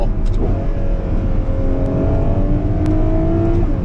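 Ferrari 12Cilindri V12 engine revving hard toward 9,500 rpm, a loud, continuous rising howl with steady harmonic tones climbing together, close and alone without talk.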